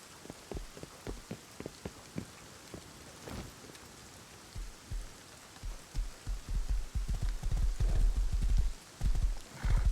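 Horse hooves in the video game Rust clip-clop in an uneven, quickening rhythm against a backdrop of rain-like patter. The hoofbeats grow louder and denser toward the end.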